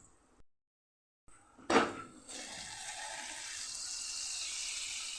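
Water poured over a covered dish of okra being steamed for Gujarati Kathiyavadi bhinda nu shak; after a brief clatter, a steady close pouring and splashing rush continues to the end, with no talk.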